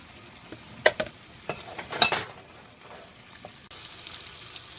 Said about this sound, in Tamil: அதே மாதிரி மிளகுத்தூளும் சேர்த்திக்கலாம் பெப்பர் நல்லா கிளறிக்கலாம்